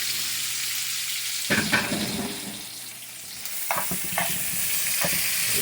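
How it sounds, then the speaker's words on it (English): Vegetables sautéing in a pan for smothered cube steaks give a soft, low sizzle, broken by a few short scraping and stirring knocks. "Just saute these for a little bit."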